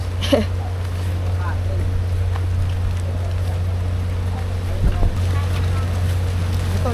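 A passenger boat crosses water during a typhoon, its engine droning steadily under loud gusting wind buffeting the microphone, with a few faint voices and clunks along the way.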